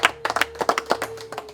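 Small audience clapping hands at a Rwandan comedy show wedding scene, a sparse, uneven patter of individual claps close by, with no talking.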